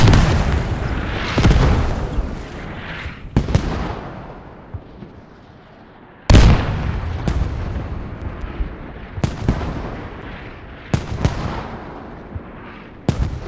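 Mortar rounds slam into a barn on a military game battlefield, a string of heavy booming impacts with long rumbling tails, the loudest blasts near 0, 6 and 9 seconds and further sharp hits trailing after, no voices.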